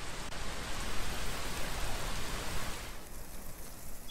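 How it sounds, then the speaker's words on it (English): Steady rain falls across a video game level in a Half-Life style mod, a dense continuous hiss that fills the scene and thins noticeably toward the end. "It's raining over here."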